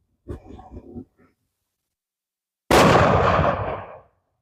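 A black powder rifle fires a steel ball bearing outdoors: one sharp, loud blast that rings off over about a second and a half, after a short stretch of faint handling noise and then silence.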